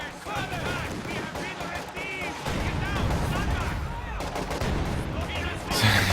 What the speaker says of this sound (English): Satchel charge is going off left and right.